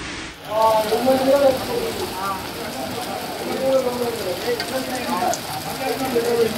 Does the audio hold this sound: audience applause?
no